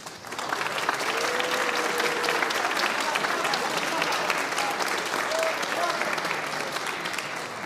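A concert audience gives sustained applause for student athletes at a school spring music concert, steady dense clapping filling the hall from start to finish with faint voices mixed in.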